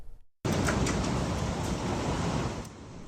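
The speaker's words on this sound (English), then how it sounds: "That's the sound of hail falling into a pool in Jackson County when storms hit the area on Saturday" Hail pelts a swimming pool during a Saturday afternoon storm in Jackson County, Georgia, a dense, loud rushing clatter that starts abruptly and continues steadily for a few seconds without talk.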